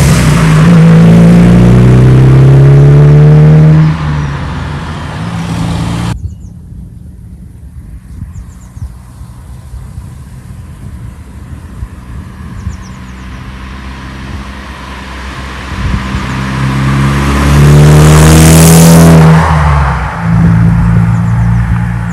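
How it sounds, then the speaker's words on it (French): A 2010 Morgan Plus 4 Tourer with a five-speed gearbox is driven. Its engine is loud and close, rising through the gears, then drops to a quieter cruise or idle before revving hard again, with no talking. "Boîte 5 vitesses, extrêmement facile à conduire."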